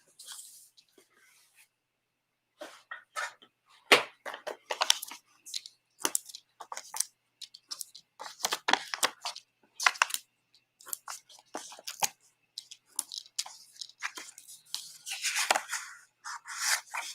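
Paper is cut for a small masculine greeting card in a series of quiet, close, irregular snips and crunches, some short scraping and rustling between them, with brief pauses.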